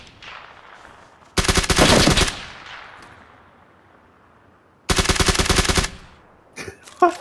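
Two long bursts of automatic gunfire in the battle royale game PUBG, each a rapid, loud rattle lasting about a second. Quieter gaps with fading echoes separate them, and a few scattered shots follow near the end.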